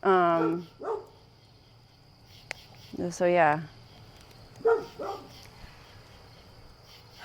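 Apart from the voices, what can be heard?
dogs barking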